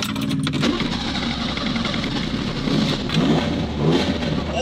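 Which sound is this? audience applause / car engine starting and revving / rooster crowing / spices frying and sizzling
car engine starting and revving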